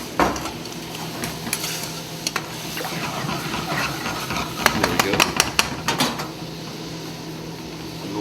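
Lemon juice stirred and shaken in a saucepan over a flame, with a low sizzle, scraping spoon and sharp metallic clinks and rattles of the pan, up close, while people talk.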